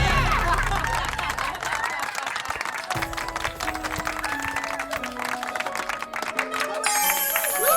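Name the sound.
audience applauding the first contestant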